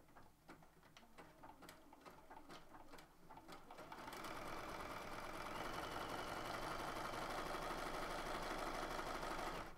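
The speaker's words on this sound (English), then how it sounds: "So I'm just going to zigzag stitch down the one side." Sewing machine zigzag stitching through vinyl: first a run of separate stitch clicks with short pauses, then a faster, steady mechanical whir and rapid tapping that holds for several seconds, close but fairly soft.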